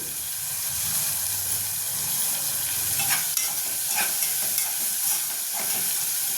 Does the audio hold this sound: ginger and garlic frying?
yes